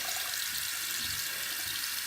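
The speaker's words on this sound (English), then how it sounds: "get it under the water" Tap water running steadily into a sink while a makeup brush is rinsed under it, a faint, even splashing hiss with no talking.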